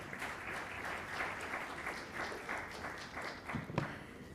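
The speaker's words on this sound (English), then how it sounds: "If we could please keep the clapping going for our winners." An audience at an education conference in Dubai applauds award winners with dense, sustained clapping that fills the room, steady at first and then thinning slightly toward the end.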